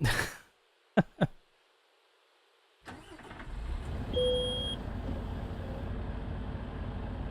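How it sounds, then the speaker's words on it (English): A truck's warning chime in Euro Truck Simulator 2 sounds as a single steady tone lasting about two seconds, heard over a low idling engine hum after a few sharp clicks and a brief silence. "There's only one beep for 2 seconds."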